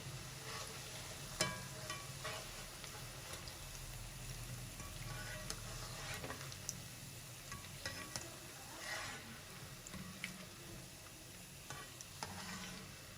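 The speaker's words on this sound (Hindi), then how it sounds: "अब 2 मिनट तक और फ्राई करेंगे, फिर हम इन्हें निकाल लेंगे।" Pakoras made with gram flour batter and potato deep frying in hot oil, a continuous soft bubbling sizzle with occasional crackles and light stirring clicks, quiet and steady with no voices.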